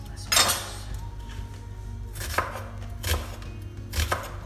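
Knife chopping onion finely on a cutting board, a few quick bursts of close, crisp cuts separated by brief pauses, with faint kitchen hum beneath.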